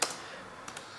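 A few faint, quick clicks of computer keyboard typing, irregular and close, over a quiet background.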